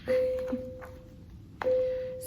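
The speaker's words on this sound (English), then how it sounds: "That's the school bell." A school bell sounds as two clean, steady ringing tones, each starting abruptly and holding evenly, separated by about a second and a half, with faint thuds underneath.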